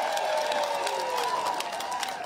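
A crowd claps steadily throughout a gathering in Kiambu, Kenya, with dense, sustained applause, a droning tone running underneath, and no break.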